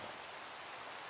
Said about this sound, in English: because it's raining here